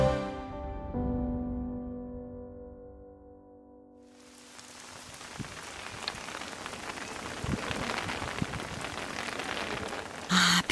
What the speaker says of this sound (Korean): 생명을 전하는 봄비는 축복입니다.